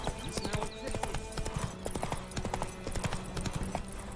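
Hooves of the horse Roach clip-clopping in The Witcher 3 video game, a brisk steady trot of sharp close hoof strikes with faint background ambience.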